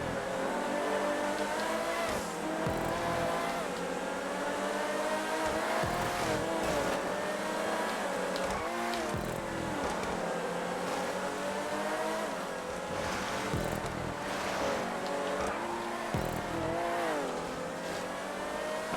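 Race cars in the GTA 5 video game, Vagner cars racing the North Loop, engines revving loudly and continuously with shifting pitch as they accelerate, and no talk over the engine noise.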